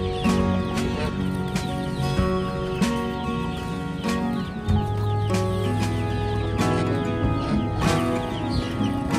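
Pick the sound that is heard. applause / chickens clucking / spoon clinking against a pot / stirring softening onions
chickens clucking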